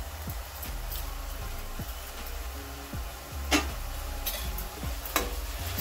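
Ginger garlic paste fries in a pan for pulasa fish curry, giving a steady close sizzle with scattered light scrapes and ticks of a spoon stirring against the pan.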